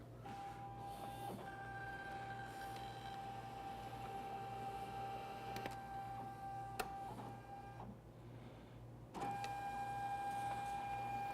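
A voting machine prints a ballot card, running with a steady mechanical whir and hum along with occasional clicks and a brief shift in pitch partway through, close by and continuous.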